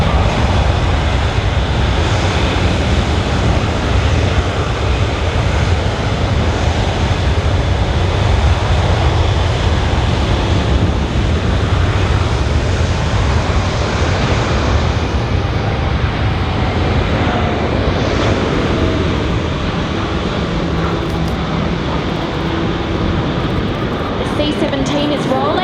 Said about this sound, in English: C-17 is rolling and just taken off for its tactical departure